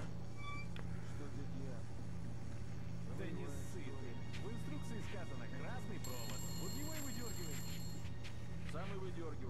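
An alarm bell rings when the player passes it in the video game Metro: Last Light. A bright, sustained ringing tone sounds over low background hum, with voices murmuring throughout.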